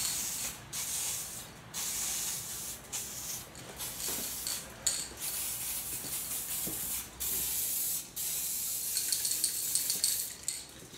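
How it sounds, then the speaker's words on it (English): An aerosol can of black spray paint sprays in repeated hissing bursts, steady and close, with brief pauses and faint clicks between sprays, painting a motorcycle tool box. "I'm now ready to put on the black spray paint"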